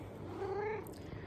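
A pregnant cat gives a single soft, drawn-out meow close by in a quiet indoor room.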